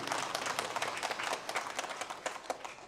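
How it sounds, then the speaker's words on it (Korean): A congregation clapping in a church during a Sunday worship service, a soft, brief patter of hands that fades toward the end. "성부 하나님 앞에 영광의 박수 올리겠습니다."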